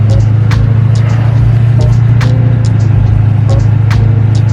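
An LB7 Duramax diesel pickup is driven and shifted through its gears, giving a loud, steady low engine drone with faint periodic clicks and ticks over the top.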